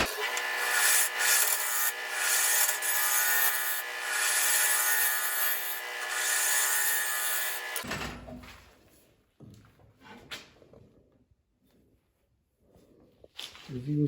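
Tool work hollowing the centre of a sycamore salad bowl: a loud steady rubbing, cutting drone that cuts out abruptly, then sparse scrapes and knocks against near quiet.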